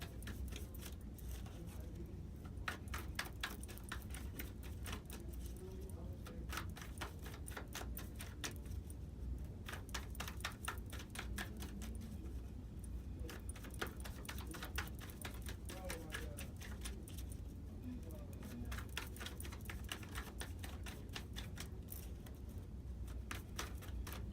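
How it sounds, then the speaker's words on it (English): Continuous rapid riffling and slapping of tarot cards being shuffled, a dense rustling texture with faint voices in the background throughout. "I'm going to go on and finish shuffling these cards"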